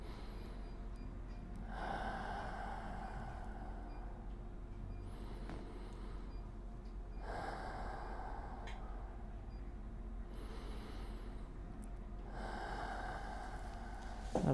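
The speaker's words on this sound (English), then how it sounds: "deep breaths." Slow, deep breaths during a wrist and forearm stretch, soft airy inhales and exhales recurring roughly every few seconds, faint and close over a quiet steady background.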